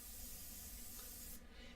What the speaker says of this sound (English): first I'm just going to test my spray